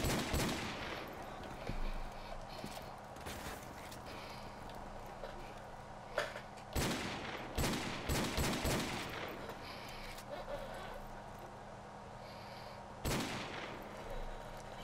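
Repeated bursts of gunfire ring out in Call of Duty: Modern Warfare Remastered prop hunt mode, several loud, sharp volleys spread across the stretch over a steady background hum of game ambience.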